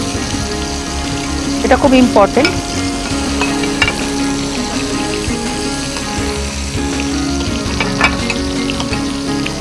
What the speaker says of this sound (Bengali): ওটার মধ্যে প্রনটা ভেজে তুলে রাখো